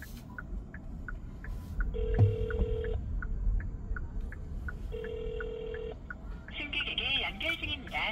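Telephone ringback tone as a call to a taxi passenger connects: two long buzzing tone bursts separated by a pause, over a regular ticking and low cabin hum, with brief voice at the end.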